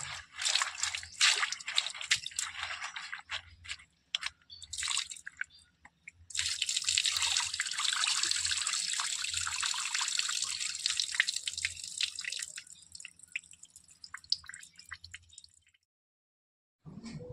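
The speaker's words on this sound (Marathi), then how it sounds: "अशा प्रकारे आपण आता स्वच्छ 2-3 पाण्याने धुवून घेतोय." Whole spinach leaves are swished and rinsed in a basin of clean water, with close splashing, dripping and wet squishing that swells into a long steady pour of water midway, then fades to drips, with no speech.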